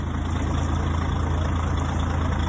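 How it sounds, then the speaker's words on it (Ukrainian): A used heavy truck engine idles, a steady low rumbling drone with even vibration after sitting unused for a long time, heard alone without talk. "Мотор працює рівніше, стояла дуже довго."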